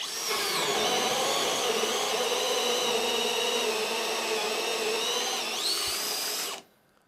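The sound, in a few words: Bosch GSB 18V-65 cordless drill drilling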